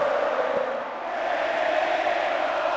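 Arena crowd in the WWE Smackdown wrestling video game, a steady roaring cheer that swells slightly and holds at a loud, even level throughout.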